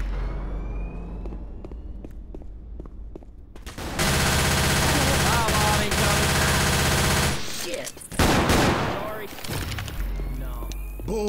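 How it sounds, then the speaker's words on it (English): Heavy gunfire in the video game Left 4 Dead, scattered shots building into a loud sustained barrage, then breaking into further bursts and chaotic impacts as voices shout in the background. "Stop shooting me!"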